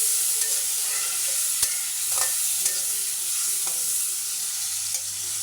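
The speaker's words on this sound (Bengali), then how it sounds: "এই যে আলুটা রান্না করার জন্য পেঁয়াজটা ভেজে নিচ্ছি।" Onions frying in a pan for a potato and meat curry, a steady close sizzle with occasional soft stirring clicks and scrapes, no talking.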